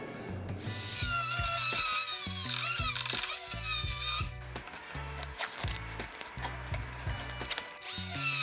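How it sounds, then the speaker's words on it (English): A die grinder enlarges a hole in a wooden door frame for a deadbolt, a loud, steady high-pitched whine that bogs and surges as it bites into the wood, with some irregular cutting bursts. "we will have to use a die grinder since this is all we have"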